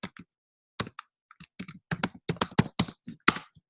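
Someone types code on a computer keyboard in quiet, close keystroke bursts, with short pauses between irregular clusters of crisp clicks.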